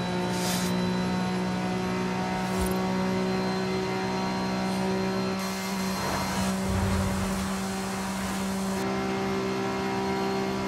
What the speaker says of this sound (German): der B-Turbo-Motor vom GT2RS, der ist einfach brutaler Motor